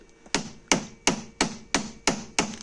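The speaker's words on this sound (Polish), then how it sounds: "młoteczkiem delikatnie z wyczuciem nabijamy to łożysko" Seven evenly spaced, sharp metallic hammer taps press a bearing into a Valeo alternator from an Opel Corsa D 1.3 CDTI, ringing out at a steady rhythm, close and moderately loud, with no talking.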